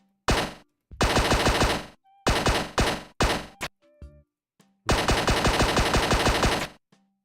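Pistol gunshots in a VR combat game under development: rapid bursts of crisp synthetic shots fired in several strings separated by short silences, the final burst longest, loud and close with no talk.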